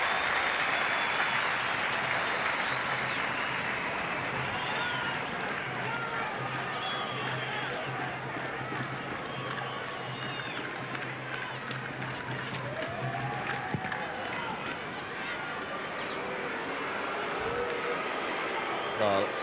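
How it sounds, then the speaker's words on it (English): A football stadium crowd at an Australia v Saudi Arabia match makes a steady roar throughout, with rising murmurs, under continuous commentary. "Jeff Olver doesn't need to be told by the crowd that that wasn't a very good kick."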